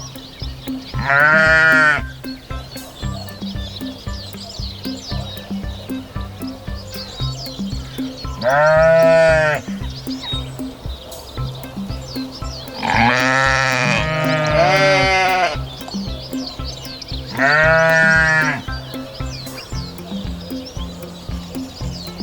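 Sheep bleating four times at spaced intervals, loud and close, over a steady low background hum.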